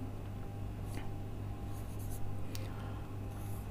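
Chalk or marker writing on a board during a chemistry lecture on chemical bonding, faint scratchy strokes over a steady low room hum, with no talking.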